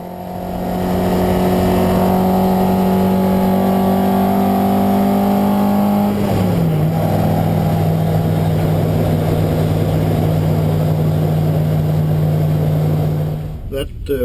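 A race car engine drones loud and close, holding a steady high pitch before dropping in tone at a gear change and then running on evenly through a corner on the Nürburgring.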